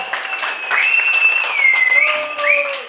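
Wedding guests applaud a contestant during a game for the newlyweds, clapping under loud, sustained singing or a musical tone rising and falling over it.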